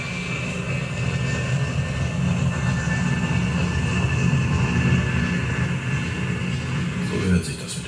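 An F-104G Starfighter jet landing with its drag chute deployed, heard as a steady, broad engine roar at moderate distance, with a voice speaking over it.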